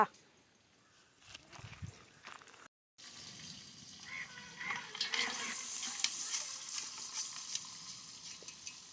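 Spices temper in hot oil for paya soup in a pot on a wood-fired chulha, a quiet, close crackling sizzle with faint stirring that follows a brief break, while people talk nearby.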